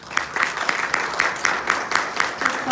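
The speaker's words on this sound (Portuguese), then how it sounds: "vamos dar uma salva de palmas para as crianças" A group in a church gathering applauds the children with rhythmic, evenly spaced claps that fall into a steady beat. The clapping is moderately loud and continuous over a soft background murmur.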